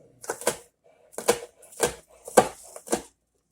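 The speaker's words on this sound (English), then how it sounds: "just go ahead and dice them up" Knife dicing onions on a cutting board for taco soup, five or six crisp chops in an uneven rhythm, close and clear with no talking.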